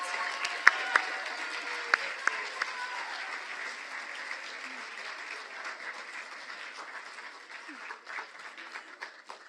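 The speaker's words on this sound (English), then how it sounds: "You may clap for the junior class candidates." School assembly applause for junior class candidates at a National Honor Society induction ceremony, a dense wash of clapping from a seated crowd, a few sharp claps standing out early before it slowly fades.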